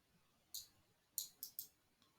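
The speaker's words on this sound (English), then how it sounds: "let me just right click it then" A computer mouse being clicked during chart work on a trading screen, with four sharp, crisp clicks in a quiet room, a single one first and then three in quick succession, followed by a faint fifth tap.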